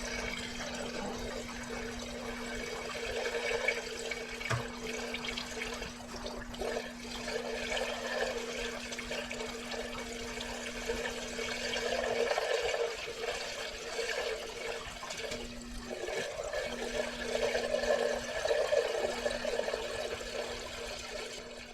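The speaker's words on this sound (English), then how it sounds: "Just dumped 3 or 4 gallons of fuel into it" Fuel being poured quickly into the tank of an M-1 Cobra at a gas station, a steady liquid gush with a faint constant hum running beneath it, loud and continuous throughout.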